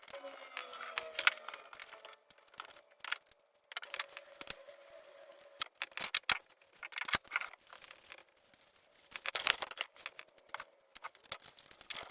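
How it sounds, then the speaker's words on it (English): A paddle casing, from a Selkirk Labs Boomstick or its clone, is cut open with a run of irregular scrapes, crinkles and sharp cracks. The sounds come close and fairly quiet, with short pauses between bursts and no talk. "So let's cut it open and see what we're actually getting."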